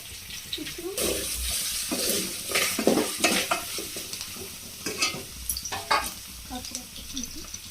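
Mutton fry sizzles in a pan as it is stirred, a continuous close frying hiss with scraping stirs and wet spattering bursts throughout.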